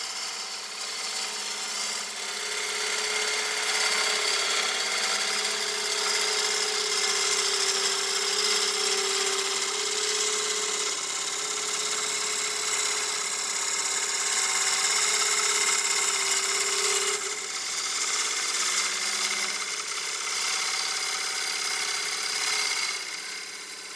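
A large gouge cuts a partially seasoned wooden bowl spinning on a wood lathe, making a steady, continuous shearing hiss over the motor's hum, close and even in loudness throughout, with a slight change in tone partway through as the cut shifts.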